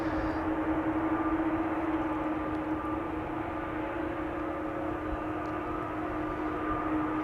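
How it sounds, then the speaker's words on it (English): An Airbus A330 rolls out after landing at Amsterdam Schiphol, its engines a steady, distant, droning roar with a faint tonal whine as the thrust reversers spool up slightly, continuous throughout. "You might be picking up the sounds of an A330"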